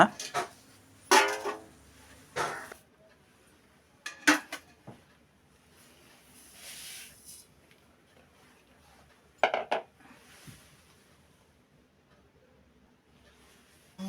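A bowl scoops and measures sugar for a large two-kilogram batch of boondi laddu, giving scattered clinks and clatters of metal vessels with quiet gaps between them.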